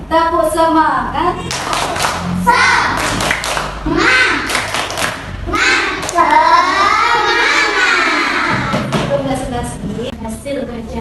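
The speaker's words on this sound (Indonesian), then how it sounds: "Semangat. Tepuk semangat." Schoolchildren in a classroom perform a rhythmic group clap, sharp patterned claps in bursts mixed with children's chanting voices, close and loud.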